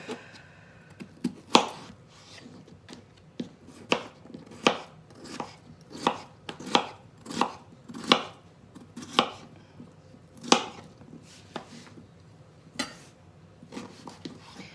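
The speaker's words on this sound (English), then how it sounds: "I'm gonna finish cutting these up." A knife chops food on a cutting board during breakfast prep, about twenty sharp, close knocks in an uneven rhythm with short pauses between bursts, and no talking.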